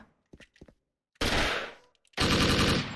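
SIG551 rifle gunfire in the video game Special Force comes in two loud, sustained automatic bursts, each about a second long. A few faint clicks and thuds come before them, and no one speaks.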